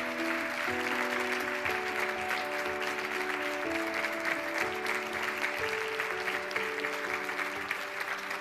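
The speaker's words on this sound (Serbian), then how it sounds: "Ovaj aplauz je za Mladena." A television studio audience applauds for a guest named Mladen, a steady, dense wash of clapping lasting throughout, while sustained music tones play along underneath it.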